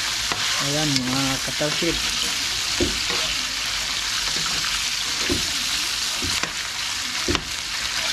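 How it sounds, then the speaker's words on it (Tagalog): Pork belly adobo stirred and frying in a pan, a steady loud sizzle with scraping utensil strokes throughout and brief speech near the start. "Mix lang natin ng maigi hanggang sa ma-mix ang lahat."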